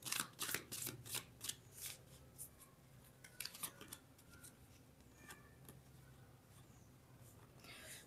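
Tarot cards are shuffled and drawn up close, with rapid riffling bursts at first, then softer slides and flicks as single cards are pulled out.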